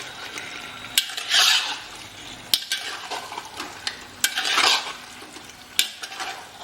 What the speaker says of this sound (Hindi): ये जो हमने 1 घंटे 2 घंटे मैरिनेट किया था मीट को, अब इसमें हम डाल देते हैं। इसे अच्छा मिक्स कर लेंगे।